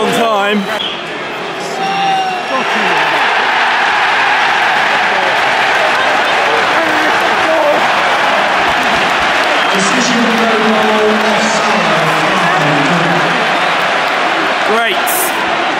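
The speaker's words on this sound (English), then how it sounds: "See the crowd's reaction." A football stadium crowd at an Everton versus Brighton match roars and applauds in a loud, sustained wash of clapping and cheering, with close voices talking over it.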